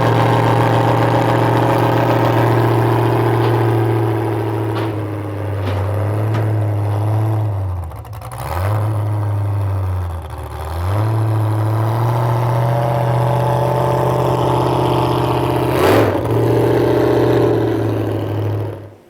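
A burnout truck's engine runs strapped down on a dyno, a loud steady low rumble with a few short blips and dips in revs and a sharp clank near the end.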